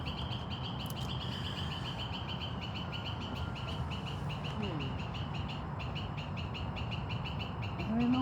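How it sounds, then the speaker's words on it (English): An outdoor bird repeats a short call at a steady rhythm, moderately distant, over a constant background hum, with other faint chirps around it. "I don't know what that bird is."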